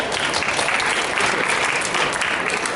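Dense, steady applause from an expo audience during a hypnosis talk, loud and continuous for a few seconds.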